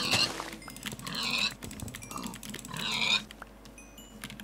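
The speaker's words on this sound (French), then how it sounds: "On a du cochon là-bas." Pigs grunt repeatedly in the Minecraft video game, two clear bursts of snorting oinks a second or so apart over a quiet game background.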